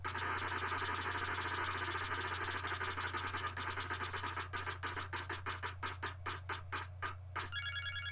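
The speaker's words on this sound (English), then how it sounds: "Spin the wheel." A game show prize wheel spins, its clicker ticking rapidly at first, then slowing into distinct, evenly spaced clacks as it winds down, all over a steady low hum from the studio.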